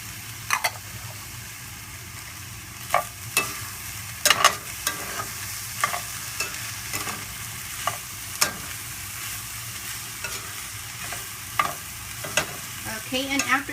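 Onions and diced Roma tomato sautéing in a pan, a soft steady sizzle broken by scattered scraping stirs of a utensil against the pan, fairly close and quiet.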